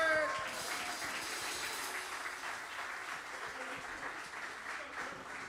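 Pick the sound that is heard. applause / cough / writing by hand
applause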